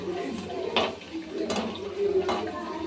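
A metal spatula scrapes and clatters in a pan holding water, a few sharp taps and scrapes over a steady low background hum.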